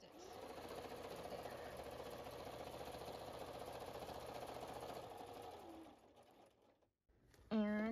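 A Bernina 440 sewing machine stitches a quilt in one steady, continuous hum for several seconds, then slows and stops briefly before a short burst of stitching resumes at the end.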